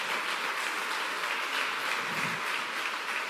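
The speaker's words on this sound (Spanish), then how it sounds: "Dale un fuerte aplauso." A church congregation applauds together, with steady dense clapping throughout the clip and no talk on top.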